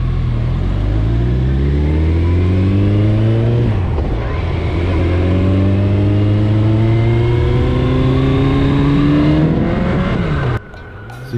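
A 1400 cc motorcycle engine accelerates hard, its loud near roar climbing through a gear, dipping at a shift, then rising again before cutting off abruptly at the end.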